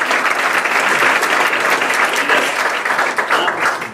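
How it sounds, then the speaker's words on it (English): Dense, loud applause from a large audience at a teaching-night event fills the whole stretch as a steady wash of many hands with no voices. "Big round of applause."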